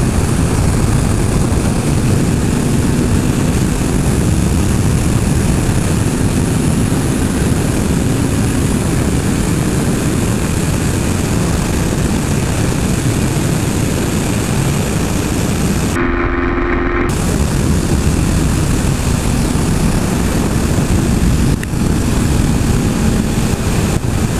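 A 2014 Honda CBR650F inline-four motorcycle at high speed, its engine a loud continuous roar mixed with heavy wind rush, droning unbroken except for a brief dropout near the middle.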